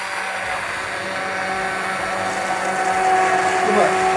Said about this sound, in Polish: Kolejny etap, zupę blendujemy na krem.